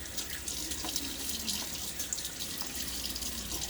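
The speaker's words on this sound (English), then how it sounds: "just a little bit of water on my face" Water running from a bathroom tap into a sink, a steady close splashing stream with small irregular spatters as hands wet the face before a shave, no talk.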